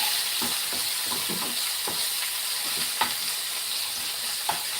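Curry leaves fry in a pan for a Tamil brinjal poriyal, giving a steady close sizzle with occasional light pops and stirring scrapes throughout, with no talking.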